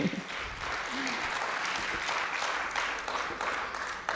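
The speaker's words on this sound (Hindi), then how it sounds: "ताली बजाइए एक बार, पहले आदेशित कीजिए।" Audience at a Hindi Kavi Sammelan poetry recital clapping, moderately quiet, continuous applause with a few stronger bursts and faint voices mixed in.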